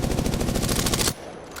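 Rapid automatic gunfire from the Prowler in Apex Legends, fired from the hip in a quick burst of about a second before cutting off, loud and close with no talking.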